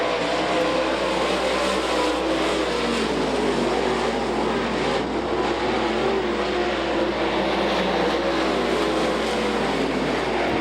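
Late model race cars roar around a dirt track at a night race, a dense, continuous wall of engine noise from a pack at full throttle without a break.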